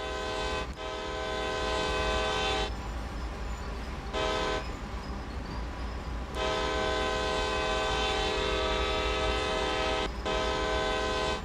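Train horn blowing in Train Sim World 5 during switching work at Framingham, long sustained tones that stop and restart several times over a steady rumble of rail movement, loud and near.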